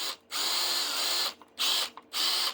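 A cordless 90-degree gear-drive drill whirs at full speed in three loud, steady bursts, starting and stopping close by with short pauses between runs.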